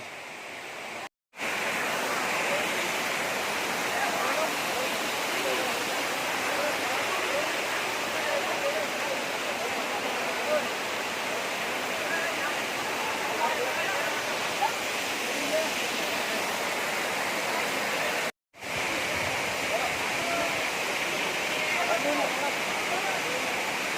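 Steady, dense rush of a mountain stream at Jatashankar near Junagadh, loud and close, continuous with no breaks apart from two brief dropouts.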